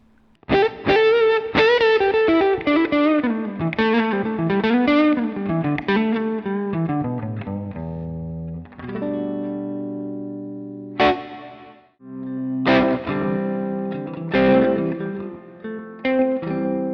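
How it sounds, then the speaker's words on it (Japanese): Electric guitar through a Fender amp and a Klon-style overdrive pedal with the delay bypassed, playing a mildly gritty melodic phrase, then sustained chords and single notes, close and alone with no talking. "まずはバイパス音、ちょっと聞いてみましょうか。"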